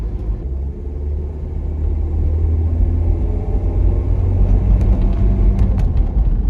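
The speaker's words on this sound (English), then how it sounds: "I've had wheel bearing noise in this car since I bought it in September of 2020" A car with a rear wheel bearing and hub worn for about five years, heard while driving: a steady, loud, low droning rumble with road noise that holds throughout, no talking.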